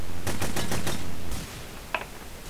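Gunfire in the video game Hidden: Source, a quick run of about five loud close shots in a steady rhythm, followed by a quieter mechanical click or two.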